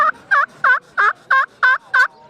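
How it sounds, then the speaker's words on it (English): A walnut slate turkey call worked with a striker gives seven evenly spaced, loud, raspy yelps in a steady rhythm, close and clear, with no talking. "this here is one of my walnut slate calls"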